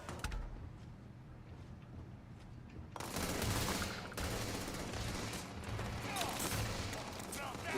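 Gunfire in the space game Starfield: dense bursts of rapid shots erupt after a few seconds of quieter ambience and keep going loud and continuous, with a voice talking over them.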